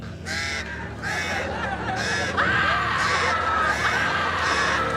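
Birds caw harshly in a scene from the film Birdemic, a rhythmic run of about six loud calls over steady background noise.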